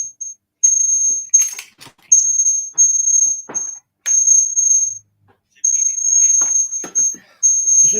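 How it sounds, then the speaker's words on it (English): A high, piercing electronic beep of unknown source sounds in repeated bursts of about half a second to a second with short gaps, loud and close, interrupted by brief knocks and rustles. "There's a squeaking over there."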